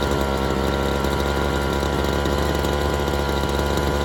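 A small engine running on choke, idling steadily and loudly up close with a constant drone and a slightly uneven, rough lean note.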